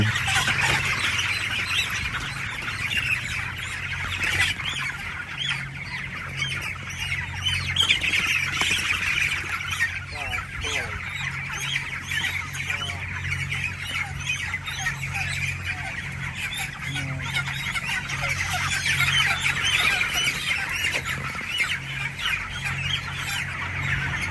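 Broiler chickens on a large poultry farm in Malaysia keep up continuous clucking, squawks and squeals from many birds at once over a steady low hum, with no pause for over twenty seconds.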